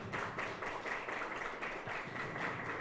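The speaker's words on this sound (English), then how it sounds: "Can we clap it up for our parents?" Audience at a Newark Literacy Coalition community event clapping for the parents, a steady, dense wash of applause from many hands filling the room throughout, with no talking over it.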